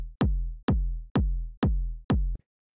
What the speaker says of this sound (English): simple kick. Basically, the way that I made this is I just took this kind of like punchy, sort of techno-style kick